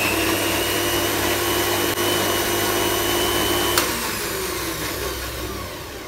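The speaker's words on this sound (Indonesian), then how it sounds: "Lalu blender semua bahan hingga halus." Electric kitchen blender whirring steadily as it purees avocado, sugar and cow's milk into a smoothie, a continuous loud motor drone with a slight drop in pitch near the end.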